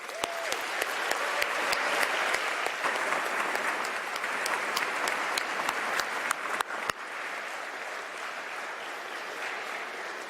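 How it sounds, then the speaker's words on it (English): A big crowd at the ICPC World Finals opening ceremony applauds the host and volunteers, sustained loud clapping with sharp individual claps standing out for about seven seconds before thinning to a softer tail. "So join me in a big, loud round of applause for our host and ICPC volunteers."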